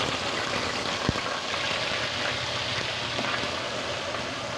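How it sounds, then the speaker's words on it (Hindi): Onions with cumin frying in a pan while cooking mutton kofta, giving a steady, close, moderately loud sizzle that runs without a break, with one sharp tap near the start and no talking. "प्याज को हम अच्छी तरह भूनेंगे, फिर बाकी चीज़ें इसमें डालेंगे।"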